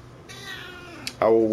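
A cat meows in a short, clear burst close by near the end, after a stretch of quieter indoor background with a voice talking.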